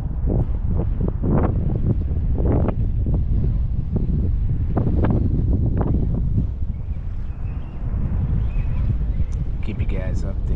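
Gusty wind buffets the microphone outdoors on a fishing trip in low, rumbling bursts, loud and close, with a voice speaking faintly underneath.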